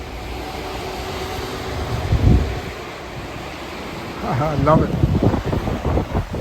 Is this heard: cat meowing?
no